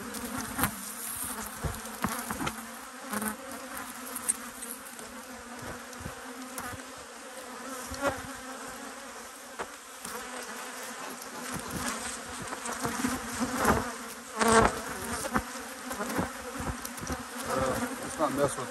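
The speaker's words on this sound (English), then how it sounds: "This is a Saskatrass bee right here." Saskatraz honey bees buzz steadily around a hive at an apiary, a dense, close, continuous drone with small swells in loudness and no talk over it.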